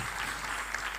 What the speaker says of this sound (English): big round of applause for these wonderful ladies